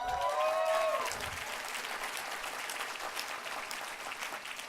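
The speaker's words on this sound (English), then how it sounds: "You're clapping." Audience applause fills the Union Theater at a university department's 50th anniversary event, steady dense clapping throughout, with a brief whistle near the start.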